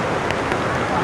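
Rain pours near Athirappilly waterfalls in Kerala, a dense, loud hiss of drops on surfaces with no pause across the short stretch.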